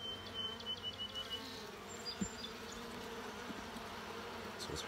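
Faint, soft buzzing of honey bees at a sparsely populated nucleus hive under quiet background noise, low and continuous, with occasional slight rises.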